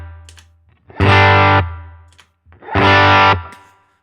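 An electric guitar through a Klon overdrive on a Line 6 HX Stomp rings out two loud chords, each held for about half a second before cutting off, with a warm, gritty distortion.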